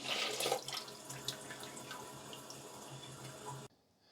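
Dirty water pouring out of a Bissell HydroSteam Pet 3432 carpet cleaner's tank into a sink: a continuous splashing, gurgling stream, loudest at the start, that stops abruptly near the end.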